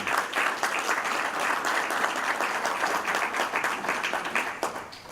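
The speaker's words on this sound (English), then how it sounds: "I would like for everybody to give him a round of applause." Steady round of applause from a conference audience, dense and sustained clapping at a constant level for several seconds.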